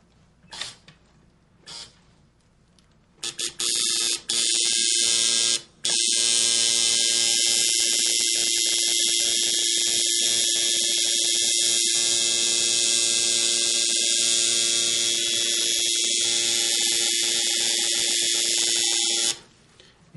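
A tattoo machine buzzes steadily while drawing a line, after a few brief starts, a high, continuous electric whine that runs loud and close for about fifteen seconds before cutting off.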